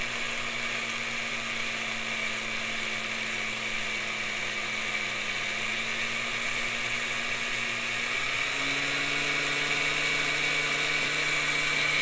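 A drill bores steadily into a Willys jeep transfer case, a continuous high whine close by that shifts pitch slightly near the end, with no voices.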